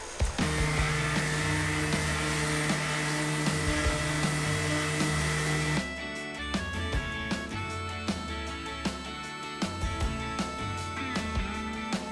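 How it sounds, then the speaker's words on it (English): A power sander with 80 grit paper strips old varnish from a boat, giving a loud steady whine for several seconds. Sharper knocks and scraping follow. "I'm just gonna kind of go quickly with the 80 grit, try to get down some of the excess varnish"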